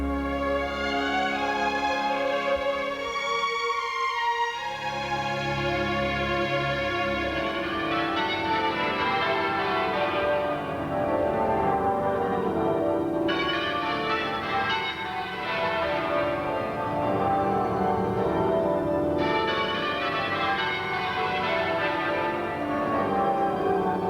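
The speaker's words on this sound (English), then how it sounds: "These muffled bells are designed to indicate a solemn moment of mourning." Muffled church bells toll slowly and steadily for mourning, with leather put around the clappers, during a tribute to Princess Diana in September 1997. The tolling is sustained and resonant, with layered ringing tones over a low rumble and no talk.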